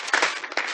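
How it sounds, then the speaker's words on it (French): An audience at an international conference on women's rights applauds, a brief burst of dense clapping that stays fairly even throughout. "On applaudit une fois de plus, s'il vous plaît,"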